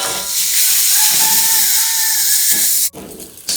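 Dried shrimp (ebi or rebon) sizzling loudly in a little frying oil in a pan, a steady bright hiss that runs without a break, then drops off sharply near the end before starting up again.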